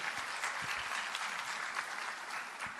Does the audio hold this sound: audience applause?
yes